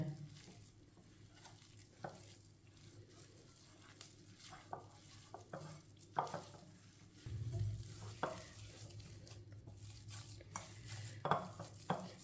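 Raw minced meat being worked by hand in a bowl for kebabs, producing soft squishy stirring and light clinks that continue steadily at close range, with no one talking.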